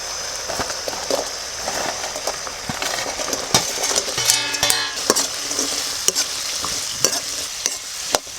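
Chicken frying in a pan with honey, black pepper and salt, being stirred in a village kitchen; a steady crackling sizzle with repeated scraping stirs and clinks close by.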